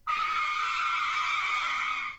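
A soundboard car-braking effect: one loud, sustained tire skid that screeches steadily for about two seconds, then cuts off abruptly, with no one speaking over it.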